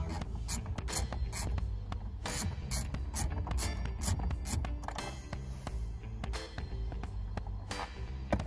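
Bolts on a Honda FN2 Type R steering wheel being undone with a T30 bit on a ratchet, giving rapid close clicking ratchet runs in repeated bursts with brief pauses.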